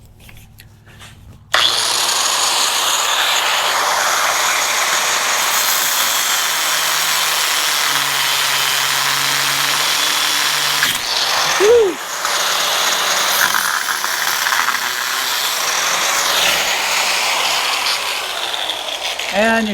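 A power tool cutting through a steel chain link runs loud and steady for most of the span, a harsh whining grind that keeps going with only slight changes in pitch.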